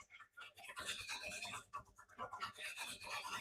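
A wooden piece is hand sanded with steady, close rasping strokes that run almost continuously, a brief lull near the start, at moderate loudness.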